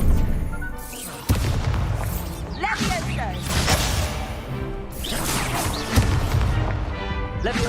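Expelliarmus disarming spell in the Hogwarts Legacy video game, heard as a series of booming magical bursts and crashing impacts layered over game music and effects, with a voice talking over parts of it.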